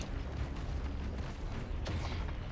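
Bursting fireworks effect in the game Risk of Rain 2, a dense, continuous crackle of pops and booms held at steady loudness throughout, with a sharper burst near the end.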